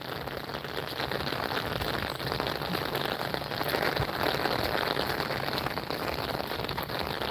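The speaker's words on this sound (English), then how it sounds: "Listen to that rain." Steady rain falls outdoors during a walk, a dense, even patter on surfaces all around, close and continuous with no voices.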